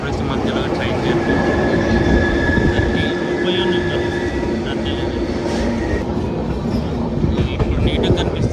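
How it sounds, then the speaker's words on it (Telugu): Kirandul passenger train running through a valley between Vizag and Araku, a continuous loud rumble and rattle of the carriages heard from onboard, with steady clickety-clack and faint voices in the background. "ప్రకృతి మధ్యలో ట్రైన్ జర్నీ."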